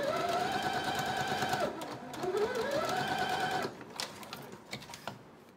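A sewing machine backstitches fabric, its motor whirring near and loud as the pitch dips and climbs with each change of direction, then giving way to soft clicks and taps.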